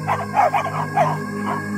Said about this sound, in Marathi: भुंकत बसायचा.